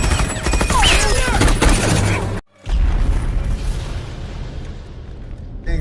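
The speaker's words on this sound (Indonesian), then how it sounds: "tiba-tiba mobil yang dikendarai sang jenderal meledak" A car carrying a general explodes in a film action scene: a loud, dense burst of noise cuts to a brief silence, then a heavy, sustained rumbling roar with scattered debris-like crackle.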